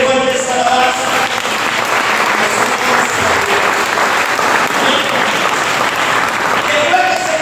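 A church congregation applauds in sustained, dense clapping that stays loud and even throughout, with a faint voice or two mixed in.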